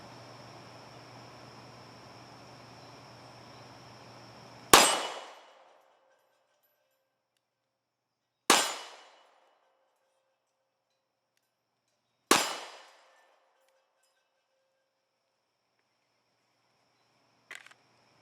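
Three loud, sharply decaying gunshots from a Kahr CW45 .45 pistol fired at 10 yards, evenly spaced several seconds apart in a quiet outdoor setting, followed by a fainter metallic clang near the end.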